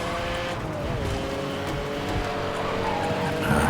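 An Aston Martin slides sideways through a corner in the racing game Need for Speed: Hot Pursuit (2010), its engine drone steady and loud with a sustained tire squeal throughout, and no talk.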